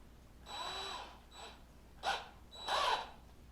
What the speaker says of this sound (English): And then I'm going to drill a hole in each of my marks.